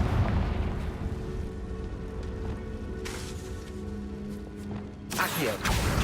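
A Confringo fire spell blast in Hogwarts Legacy, a sudden bright burst near the end following a dense, rumbling stretch of game effects and booming explosions throughout.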